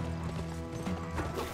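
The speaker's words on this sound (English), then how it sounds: "Go, horsey, go! He's behind us, horsey! You gotta go faster!" Video game horse galloping, rapid close clip-clop hoofbeats at a steady fast rhythm with a brief neigh mixed in, loud and continuous for the whole short moment.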